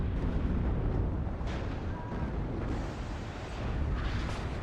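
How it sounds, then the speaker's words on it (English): M110 self-propelled howitzers firing and shells landing in the WARNO strategy game, a dense, rumbling barrage of overlapping booms and blasts that stays loud and continuous with no voices. "See the M110s here opening up. Trying to lay down fire on these positions."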